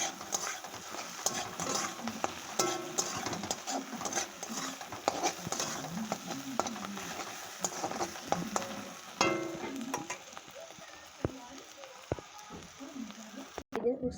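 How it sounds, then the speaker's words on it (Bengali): Fish roe with turmeric frying in oil in a pan, a steady crackling sizzle with intermittent stirring scrapes, moderately quiet and close, with occasional speech in the background. "হলুদ দেওয়ার পরে এবার আমি যেটুকু মাছে ডিম আর তেলটুকু দিয়ে দিলাম, ভালো করে ভেজে নিতে হবে"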